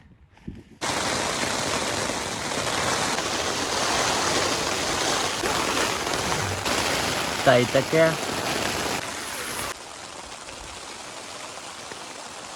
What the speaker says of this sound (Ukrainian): прийшов дощ